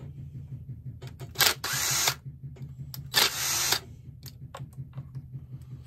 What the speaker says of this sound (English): All right, let's take this carburetor off.